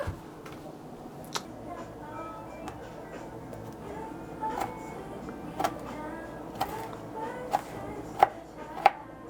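A knife chops ingredients on a board, with sharp knocks that start sparse and grow more frequent and louder toward the end over a quiet room background.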